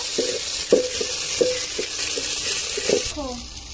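Potatoes for aloo dum fry in a pan and are stirred until brown. A soft sizzle runs underneath a series of light, evenly spaced spoon scrapes, and a voice speaks briefly near the end.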